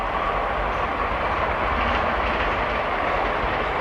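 A train runs along a railway line behind open fields, producing a steady, broad rumble with rolling wheel noise that stays constant and fairly loud throughout, with no talk.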